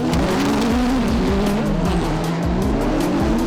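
Super Buggy race cars in a FIA European Autocross final, heard close and loud: continuous engine roar with rising and falling revs, gear changes and tyre squeal as the buggies battle on the dirt track, with no voices.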